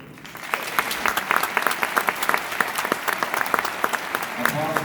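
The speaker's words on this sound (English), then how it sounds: "True or false? Applause for true." An audience at the Disney Concert Hall breaks into applause, a scatter of distinct claps swelling into steady moderate clapping that fills the hall.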